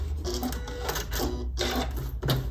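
A sewing machine runs in short mechanical bursts as it ties off a locking stitch while stitching a cork notebook cover, a steady whirring chatter broken by brief pauses, close and fairly loud with no talking.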